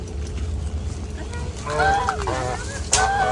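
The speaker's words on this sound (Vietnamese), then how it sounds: "4 con ngỗng." Several geese honk in a burst of nasal, rising calls out in the fields near a pomelo orchard, loud and close over a steady low rumble, with a second sharp honk near the end.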